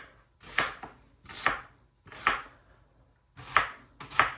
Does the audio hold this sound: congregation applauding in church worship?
no